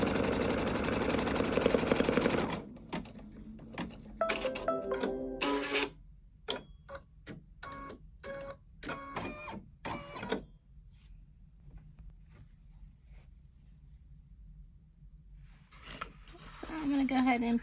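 Embroidery machine running a placement stitch with rapid mechanical ticking and needle thumps in bursts, preceded by a stretch of handling noise and followed by a quiet pause.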